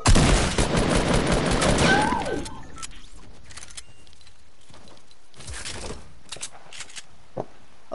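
Double pistols firing in a video game: a dense, loud burst of rapid gunfire for about two seconds, then quieter scattered game sounds and a few distant pops.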